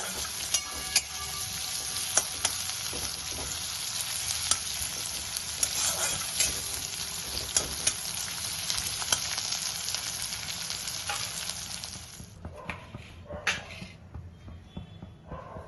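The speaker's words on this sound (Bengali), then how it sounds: "পেঁয়াজগুলো আমার বেরেস্তার আকারে ভাজা হয়ে গিয়েছে" Sliced onions frying golden brown in hot oil for an egg korma, a steady close sizzle with occasional stirring clicks that fades near the end.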